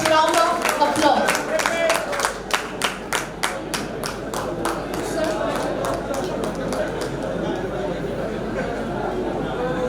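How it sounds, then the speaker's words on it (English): Audience at an association meeting in Murshidabad claps to welcome a speaker, a dense round of applause that fades after a few seconds, with crowd chatter continuing underneath. "I would ask you all to welcome him with a great round of applause."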